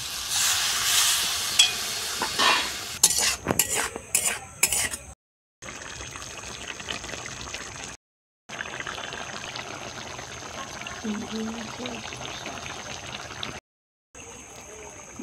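Water poured into a pan of prawns cooked with ridge gourd for a Bengali village-style kosha, an initial burst of splashing and hissing sizzle, then a calmer bubbling simmer broken by short silent gaps.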